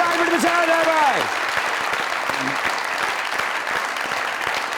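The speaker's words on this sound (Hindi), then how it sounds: "अ स्टैंडिंग ओवेशन, ढेर सारी तालियों के साथ अ लेजेंडरी रेड कार्पेट बिछाया जाए भाई।" A studio audience on a comedy talk show gives a standing ovation, dense, loud applause rolling steadily throughout, with a brief tonal musical swoop and a short voice near the start.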